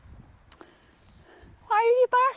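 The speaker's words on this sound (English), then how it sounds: "Why are you barking?" A dog barks at a windy wild campsite in Glen Lyon, two loud close barks in quick succession near the end after quiet ambient noise.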